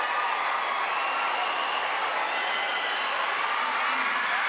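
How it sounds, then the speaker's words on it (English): Crowd cheering and applauding at a professional women's volleyball match between Choco Mucho and F2 Logistics in the PVL Invitational Conference, a steady, dense roar of spectators filling the arena throughout, with no clear single voices standing out. "Game Kennedy with 19, and they're cheering"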